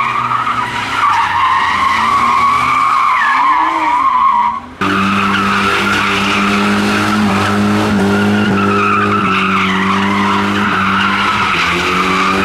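Modified cars drift around a city car park, tires skidding and squealing loudly and continuously with revving engines wailing up and down, a brief drop midway before another long screeching slide.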